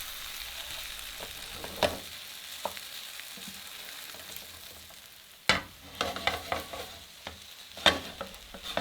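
Veal tenderloin piccata fries in a pan with a soft, low sizzle broken by sharper crackles and spits. A burst of louder popping comes partway through, then scattered pops follow.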